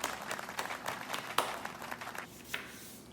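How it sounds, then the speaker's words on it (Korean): Scattered claps from a small group at an elementary Sunday school worship service: sparse, uneven hand claps, quiet and thin, with a few sharper individual claps standing out. "우리의 예배를 받아주신 하나님께 영광의 박수 올려드릴까요?"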